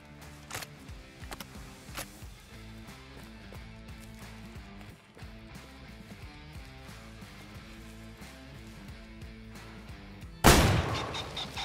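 Shotgun fire in the hunting video game Way of the Hunter, aimed at pheasants: several sharp, fairly faint reports spaced apart over a quiet background, then one much louder, close blast near the end.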